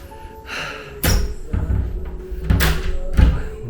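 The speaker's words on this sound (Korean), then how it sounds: "일단 문을 닫고" A stiff hotel room door in Nha Trang, Vietnam, being pushed and shut: a series of loud close thumps and knocks as the door is worked closed, with no talking.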